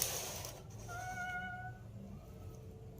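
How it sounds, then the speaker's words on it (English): A cat-like meow sounds at a front door: one drawn-out, wavering tonal cry in the middle of a quiet moment, with soft background noise around it. "hearing what sounds like a cat meowing at their front door"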